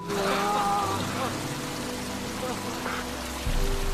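Rain falls at night over the Pacific Ocean as a steady hiss of drops, with low rumbling and tonal music-like sounds mixed in.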